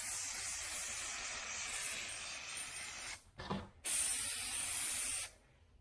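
An aerosol can spray-paints interior trim pieces for a 1978 El Camino SS, producing a steady close hiss, a short sputtering break, then another burst before it stops.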